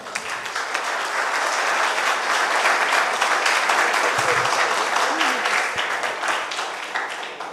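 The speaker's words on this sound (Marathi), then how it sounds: "तर त्यांच्यासाठी जास्त जोरात टाळ्या" An audience at a felicitation ceremony for coaches claps loudly for the organisers who arranged the refreshments. The dense applause swells in quickly and holds steady for several seconds before tapering slightly, with some voices mixed in.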